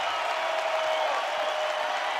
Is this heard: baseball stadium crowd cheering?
yes